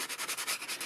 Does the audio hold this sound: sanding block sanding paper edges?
yes